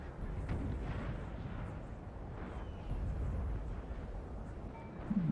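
Cannon fire rumbles across the battlefield in the video game Napoleon: Total War during a mountain assault, a low, distant, continuous thunder of booms that thickens toward the end.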